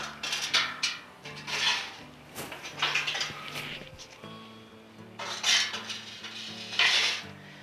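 Metal rods and a grill grate set onto a charcoal BBQ grill over stoked coals for ribs, giving a run of close metallic clanks and scrapes in uneven bursts, with a faint tonal hum running underneath.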